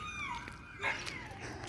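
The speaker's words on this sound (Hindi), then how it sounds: "कुत्ता भौंकने लगा।" A dog barks and whines faintly in the distance outdoors in the early morning, giving a few short yelps over a soft, steady background hiss.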